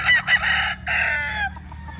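A bulik gamecock rooster crows loudly and close, a strained call lasting over a second, with clucking-like notes around it against a low background hum.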